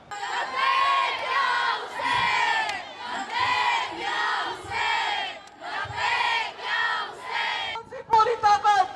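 A street protest crowd in Pakistan against US strikes on Iranian nuclear sites chants loud rhythmic slogans in repeated call-and-response waves, near and continuous, ending in more ragged shouting.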